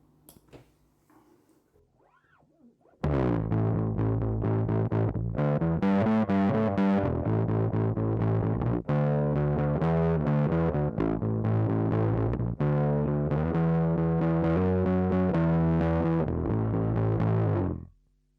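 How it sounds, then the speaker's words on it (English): Loud, buzzy fuzz-distorted electric guitar through a Harley Benton Ministomp Magnum DI with cab simulation off, playing chords and riffs, dry and harsh, starting after a few seconds of quiet and ringing out at the end. "Let's just see what the fuzz sounds like with the cab sim off."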